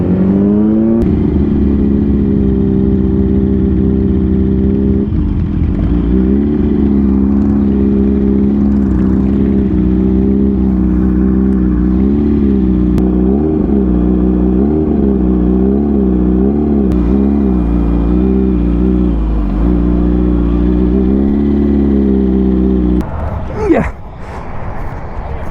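A sport bike engine with a failed clutch runs and revs for a long stretch, holding a steady drone with warbling pitch swings in the middle before cutting off with a brief clunk near the end.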